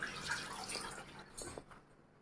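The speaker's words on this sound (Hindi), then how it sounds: "और फिर इसको भिगो लेंगे पानी में" A cotton towel soaked in water in a kitchen while corn is roasted in a pressure cooker, giving soft close splashing and dripping that fades toward the end.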